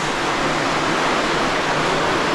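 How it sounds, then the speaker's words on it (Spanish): Water from a spring near a cave runs toward waterfalls in Miguel Hidalgo Zacalapa, a loud, steady broadband rush that fills the short stretch without pause or voices. "yo creo que pueden escuchar el agüita corriendo"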